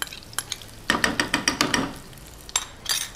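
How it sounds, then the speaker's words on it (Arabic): Chopped onion goes into a pot of hot ghee and oil already used for cooking liver and spices, a few quick clatters followed by a burst of sizzling and stirring scrapes, close by. "وهننزل بالبصله بتاعتنا. هنحط البصله بتاعتنا كده،"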